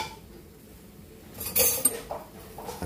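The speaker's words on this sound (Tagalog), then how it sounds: "Haluin lang natin yan." A utensil stirring a milk mixture in a bowl, faint scraping at first, then a few sharp clinks and taps against the bowl near the end, close by and alone.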